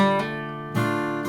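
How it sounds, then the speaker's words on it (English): Guitar notes ring out with quick hammer-ons and pull-offs, fresh attacks near the start, middle and end of a sustained chord, no talking. "I've started adding on a couple of hammer-ons and pulls-offs"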